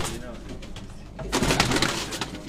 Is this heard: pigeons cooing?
yes